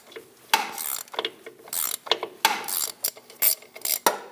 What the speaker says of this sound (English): Using a 15mm wrench and an adjustable, we're going to hold the strut still while we remove the nut.